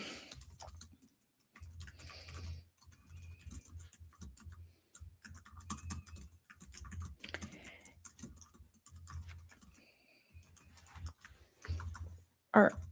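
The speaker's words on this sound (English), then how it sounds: "start typing this into Claude." Typing on a computer keyboard, entering a prompt into an AI chat tool: quiet, close key clicks in irregular bursts with short pauses, ending with a sharper tap.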